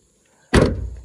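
A single car door on a Toyota Rush 1.3 with a manual gearbox thuds shut, a short, close, solid slam after near silence, trailing into a brief dull rumble.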